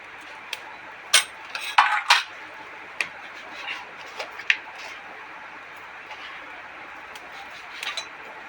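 Mung beans and spices go into a cooking pot, giving a few quiet, scattered clinks and short rattles against metal, with sparse taps spread across a calm kitchen background.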